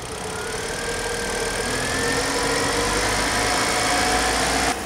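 A car engine held steady at 2000 RPM during a charging system check with an IC regulator, a constant mid-pitched drone running evenly close by, then cutting off abruptly at the end.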